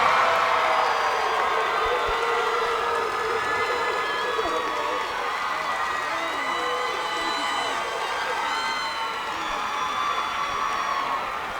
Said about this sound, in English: keep that round of applause going for your 5 representatives from the Atlantic Regional